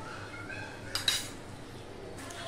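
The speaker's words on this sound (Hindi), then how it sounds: "अब हम इसे अच्छी तरीके से मिक्स कर लेंगे।" A spoon scrapes and clinks against a pan while coconut laddu mixture with milk powder is stirred, soft kitchen noise with a couple of sharp metallic taps near the middle.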